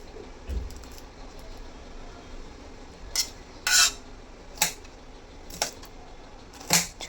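A knife cuts spiny gourd (kantola) into fine pieces with about six crisp, sharp strokes. They come close up and at uneven gaps over a quiet background, with no talking.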